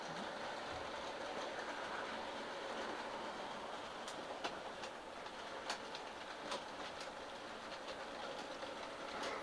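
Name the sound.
N scale model train running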